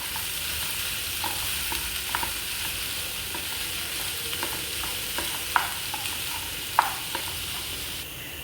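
Chopped tomatoes with salt frying in a pan, a steady sizzle with occasional scraping strokes of a spoon stirring, a couple of sharper clicks near the end, close and alone with no talk.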